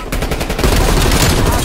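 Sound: gunfire in Call of Duty Black Ops video game

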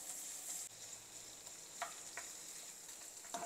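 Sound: paneer being tossed and fried in butter

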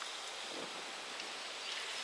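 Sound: strong wind

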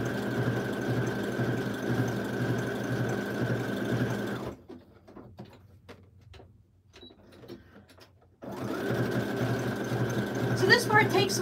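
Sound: sewing machine stitching fabric scraps

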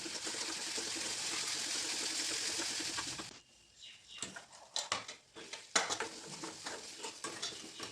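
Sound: sautéing ground masala paste in a pan until oil separates

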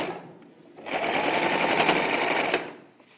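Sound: sewing machine stitching a child's dress shoulder seam

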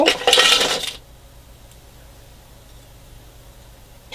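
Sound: chocolate pieces poured into steel mixing bowl

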